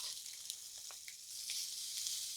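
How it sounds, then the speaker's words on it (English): Steady high hissing sizzle of chicken breasts searing in a very hot pan, with a few brief crackles and pops, fairly quiet and without voices. "Sizzle, sound, noise. We want this pan to be that hot."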